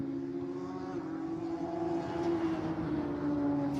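Radical race cars lapping Snetterton circuit through the Bombhole, a steady engine drone at a distance, holding a constant pitch with a slight swell toward the end.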